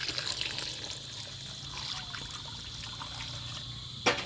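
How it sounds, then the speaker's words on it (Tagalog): Water is poured into a cooking pot for sinigang na lapu-lapu, a grouper fish soup, as a faint, steady trickle that runs throughout and ends with a brief clink. "Lagyan natin ng tubig mga kapangit."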